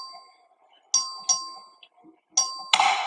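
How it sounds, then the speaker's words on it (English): Voting bell rung by the clerk in the Texas House chamber, several bright electronic chimes in quick succession, each ringing out and decaying, the last overlapped by a burst of noise. "The clerk will ring the bell."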